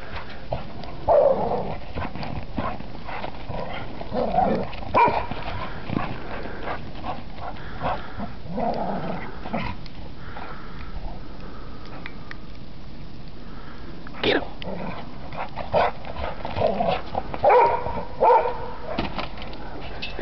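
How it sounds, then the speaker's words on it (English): Dogs scuffling in snow, with scattered growls, sniffs and short barks at close range over a steady background noise, with a few louder bursts of activity. "Get him. Get him, Mr. Dog."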